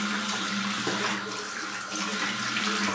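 Tap water runs steadily from a faucet into a bathroom sink for a cold rinse after shaving, a continuous close splashing hiss with no talk.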